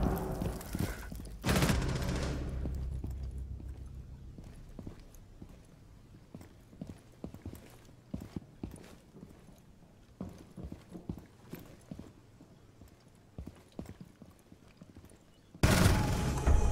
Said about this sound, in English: Man, I just heard the footsteps